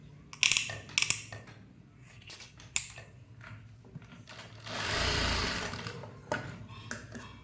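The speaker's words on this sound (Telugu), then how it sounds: "ఇలా ఎటువంటి వంకర్లు రాకుండా కరెక్ట్గా స్టిచ్ చేసుకోవాలి" A sewing machine stitches a blouse with clicks and knocks from handling, then a steady whirring run partway through. The sound is close, with short mechanical taps before and after the run.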